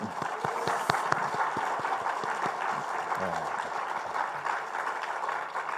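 A church congregation claps to encourage its older members: sharp, separate claps open the clip, then give way to a steadier patter of applause, and a voice speaks briefly partway through.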